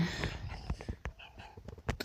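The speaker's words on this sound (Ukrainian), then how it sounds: "Так, собаки мої собаки." Tamed wolf dogs in a Minecraft survival game whimper and snort faintly in short, scattered cries, with soft breathy game sounds between them and no speech.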